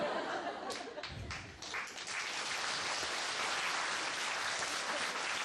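An audience at a Korean life-lecture talk show claps in a steady wash, a few louder individual claps standing out early, with scattered chuckles and murmurs under the applause.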